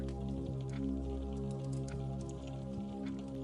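Gentle rain falls on cobblestones as soft, scattered drips and taps over a steady low wash. The sound is faint and continuous, with no voices.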